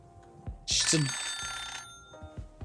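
A telephone rings in the video game Wanderstop: one loud, bright, jangling bell ring lasts about a second over soft ambient tones and occasional light taps.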